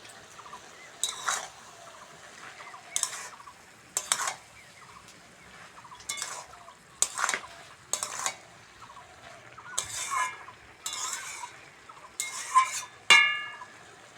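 A spatula scrapes and stirs shredded cabbage with fried prawns and potato in a pan, giving about a dozen short, separate scraping strokes over a faint sizzle.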